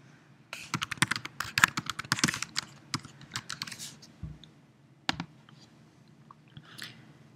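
Names and an email address are typed on a computer keyboard: rapid bursts of close, crisp key clicks, then sparser taps with pauses.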